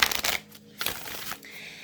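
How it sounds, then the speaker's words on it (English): Halloween Oracle deck cards shuffled by hand in a few quick riffling bursts, close and crisp, with short pauses between them and no talk. "this will be the first time I'm actually using this oracle, so I'm going to shuffle it a few times."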